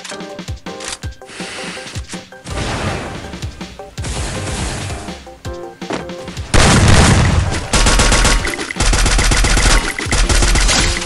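Rapid bursts of gunfire in the mobile battle-royale game Free Fire, loud clustered shots and booming impacts that grow denser and heavier toward the end, with no talk.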